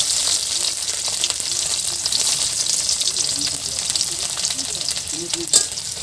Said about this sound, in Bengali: রসুনগুলো একটু হালকা ভেজে নেব।